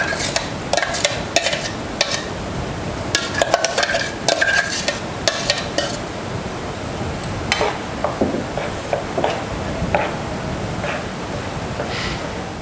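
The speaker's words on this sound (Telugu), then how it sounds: "ముందుగా స్టవ్ వెలిగించి ప్యాన్ పెట్టి అందులో మనం మిక్సీ పట్టుకున్న" Blended mango pulp is stirred in a pan on a lit stove, with repeated scraping and clinking strokes of the utensil against the pan over a low steady background, close and fairly loud.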